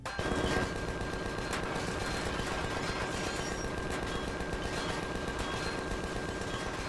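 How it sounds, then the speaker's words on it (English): Machine guns on a mini-pod fire in Empyrion, a continuous rapid rattling burst that keeps going at a steady rate for several seconds, loud and close, with no talking. "the droids in the area were little match for the machine guns on my mini-pod"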